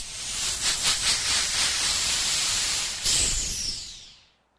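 Compressed air at about 70 psi blasts from an air hose at a well-drilling rig, a loud, steady rushing hiss lasting several seconds, briefly surging before it tapers off, with no talking.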